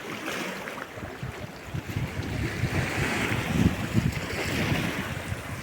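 Sea waves break on a rocky beach at Platania village after Storm Daniel, a steady loud surf roar with rolling crashes and gusting wind noise against the microphone, no voices.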